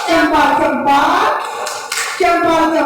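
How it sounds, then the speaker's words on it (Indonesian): Indonesian class of students and teachers performing a quick rhythmic salute clap, a group hand-clapping routine with short bursts of clapping heard amid voices and singing-like chanting. "Tepuk salut."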